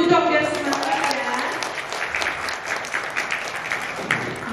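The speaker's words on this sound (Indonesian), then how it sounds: "Tepuk tangannya dulu dong biar semangat ya." An audience applauds during a visit to the BNN national rehabilitation center in Jakarta, a dense, steady clapping that stays loud and even throughout, with some voices mixed in underneath.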